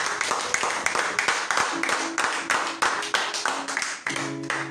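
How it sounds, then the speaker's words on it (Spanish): Church congregation applauding, a run of close, crisp rhythmic handclaps with a few pitched tones in the background. "Un aplauso al Señor"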